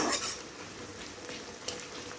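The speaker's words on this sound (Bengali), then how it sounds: "পেঁয়াজটাই কিন্তু ভালোভাবে ভেজে নিতে হবে" Onions sizzling steadily in a hot pan for a cabbage dish, a close, continuous frying hiss with faint stirring and utensil scrapes.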